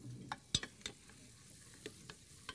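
Onions sizzle softly in a frying pan in a TV studio kitchen, with light, scattered stirring clicks and taps over a quiet, hissing background, without any talk.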